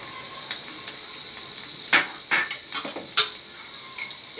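Garlic and green chilies crackle in hot oil in a kadai, a steady sizzle broken by a few sharper pops and spatters, close and fairly quiet, with no talking.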